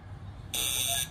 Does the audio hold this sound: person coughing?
no